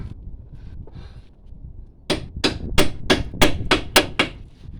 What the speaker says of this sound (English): Just whack a socket onto there.